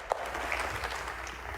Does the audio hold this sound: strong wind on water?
no